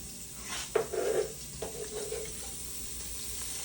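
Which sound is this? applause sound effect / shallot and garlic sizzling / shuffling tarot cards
shallot and garlic sizzling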